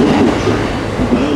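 A commuter train rumbles steadily from inside a carriage in Tokyo, loud and close, with a continuous low roar and faint rhythmic rail clatter.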